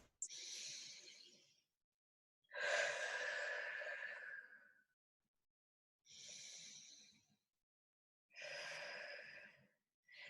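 During a shoulder and back exercise class, someone takes slow, deep breaths close to the mic: four long, airy inhales and exhales, separated by clear pauses of silence.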